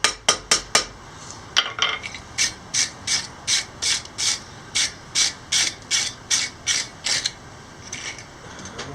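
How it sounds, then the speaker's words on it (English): A wire brush scrubs scale off a pair of freshly forged blacksmith tongs, loud rhythmic rasping strokes repeating about twice a second, a quick cluster first and then a long steady series of strokes. "this wire brush is like a bunch of scrapers. And it scrapes the scale off"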